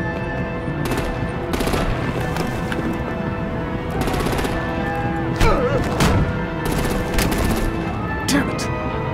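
Sustained gunfire and heavy artillery blasts in the Batman: The Enemy Within game, loud and continuous throughout, with sharp bursts of impact and booms layered over a dense battle din.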